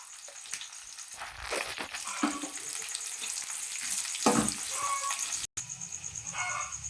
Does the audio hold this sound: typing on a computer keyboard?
no